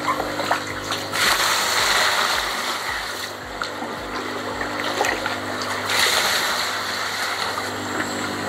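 Water from a dipper splashes and trickles in repeated pours, close by, with a steady wet wash between scoops, while backwashing a biological filter chamber of a koi pond.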